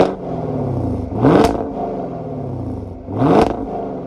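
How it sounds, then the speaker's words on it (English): A 2021 Chevrolet Camaro with the LT1 V8 blips its exhaust twice from idle, each rev a short rising roar that falls back to a deep rumble, recorded close behind the car. "you guys can hear the exhaust rumbling"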